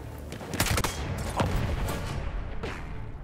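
Gunfire in Battlefield 1 on Xbox One, with several sharp shots cracking over a dense battlefield din, arriving in quick irregular bursts partly at a distance.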